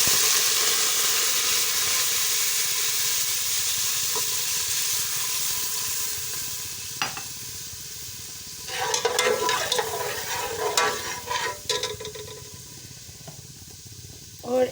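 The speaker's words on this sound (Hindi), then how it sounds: "अब मैं 1 छोटा कप इसमें दूध डाल दूंगी।" Whole spices frying in a pan hiss steadily, then milk goes in, and a burst of bubbling and sputtering follows with a few clinks, close by and with no voices.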